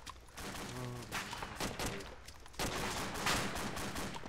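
Machine gun fire in ArmA 2, distant rattling bursts and scattered shots in a firefight, fairly faint, with a voice briefly heard.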